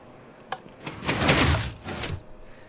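A large mechanical door in a Minecraft-style redstone build slides open, a click followed by a loud sustained grinding, whooshing rumble lasting over a second, then a trailing scrape before quiet.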